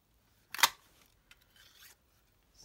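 Scissors cut a small piece of gold paper with one loud close snip followed by a faint click and a soft rustling slide, otherwise quiet.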